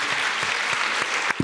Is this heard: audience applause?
yes